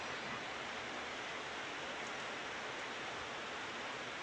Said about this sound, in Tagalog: Grabe ang ulan na to.